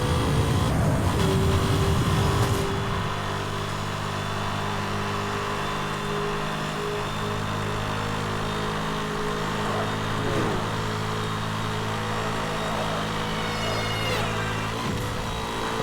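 A car engine roars steadily in a Need for Speed: Hot Pursuit (2010) race, a loud rumble after a brief burst at the start, holding a sustained tone with slight shifts and no talk.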